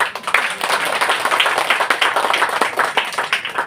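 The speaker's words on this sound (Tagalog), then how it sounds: "Pwede kayong pumalakpak." A church congregation claps together in a quick, fairly even rhythm, loud and close, sustained throughout without talk.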